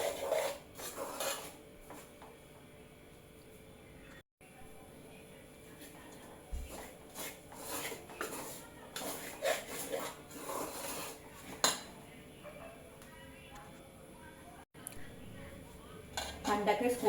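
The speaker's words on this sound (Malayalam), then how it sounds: "ഗ്യാസ് അടുപ്പ് കത്തിച്ച് ആദ്യം തീ കുറച്ച് വെച്ചതിന് ശേഷം നല്ലപോലെ വറുത്തെടുക്കാം" Rice flour is dry-roasted and stirred in a pan over a low flame on a gas stove for avalose podi. A spoon scrapes and rubs the pan with occasional light clinks, and speech runs over it.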